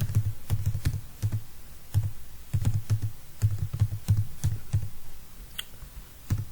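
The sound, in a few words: typing code on a computer keyboard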